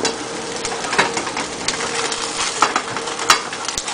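Spatula scraping beneath an omelet frying in a well-curved pan, giving a steady sizzle with repeated scrapes and clicks of metal across the surface. No one talks.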